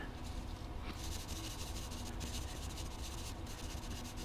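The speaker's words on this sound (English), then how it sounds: "I'll clean it up a little bit with some sanding." Soft, steady rubbing and scratching of sandpaper on a reed, close and quiet, with brief strokes and no talk.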